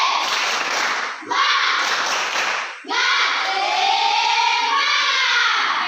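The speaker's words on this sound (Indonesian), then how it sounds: "Tepuk semangat." A school class doing a rhythmic spirit clap, loud bursts of many hands clapping together in three sections broken by short pauses, with voices chanting or talking over parts of it.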